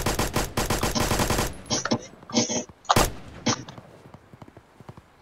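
Gunfire in the video game Blackhawk Rescue Mission 5: a rapid burst of automatic shots opens the clip, followed by scattered single shots and short bursts that gradually fade into quieter pops.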